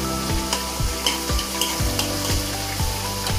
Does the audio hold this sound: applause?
no